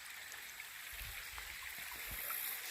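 Shallow creek water spills over rocks at a gold-prospecting spot, a soft continuous trickling wash with a few low gurgles, fairly close and untouched by voices.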